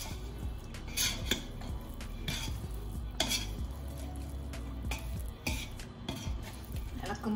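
A ladle scrapes and clanks through biryani in a pot after the sealed dum lid is opened, with repeated metallic knocks and stirring rustles close by and steady throughout.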